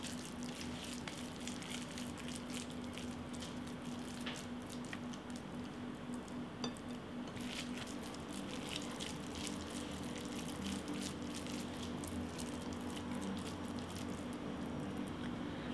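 Soft, wet squishing as dumplings are hand-shaped from a batter mixture, a steady close-up patter over a constant low kitchen hum, with no voices.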